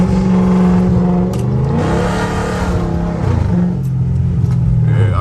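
Catless Hemi car engine revving through loud pulls on a rainy drive, a continuous powerful roar rising and falling in pitch, near and dominant with road and rain noise underneath.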